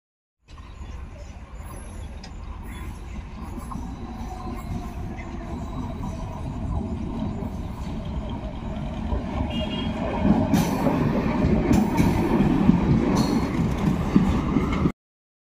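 A passenger train pulling out of Goghat station, a steady broadband rumble of wheels and carriage running throughout, growing slightly louder and busier in the final seconds, with no one talking.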